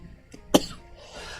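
A single sharp, close cough bursts out once, short and loud, against a quiet indoor background, with a faint vocal sound shortly before it.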